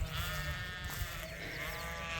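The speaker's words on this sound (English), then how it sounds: "If the sheep in the barn would stop making so much noise" Sheep and lambs bleating loudly and close in a barn, one sustained wavering bleat overlapping others, with a busy enclosed background.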